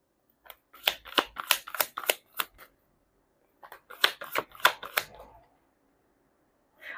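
Tarot cards being shuffled and pulled during a reading, heard as two close bursts of crisp riffling and snapping, separated by a short pause.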